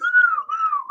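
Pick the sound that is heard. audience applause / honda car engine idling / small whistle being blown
small whistle being blown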